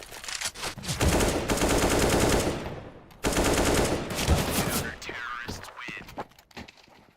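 Rapid automatic gunfire in Counter-Strike: Global Offensive, two loud sustained bursts about two seconds each separated by a short gap, followed by scattered fainter shots and clatter.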